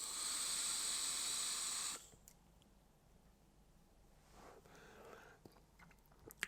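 A pull is taken on a Uwell Crown 5 vape tank at 55 watts with the airflow fully open, giving a close airy hiss for about two seconds that then stops abruptly, followed by quiet faint shuffling and small clicks.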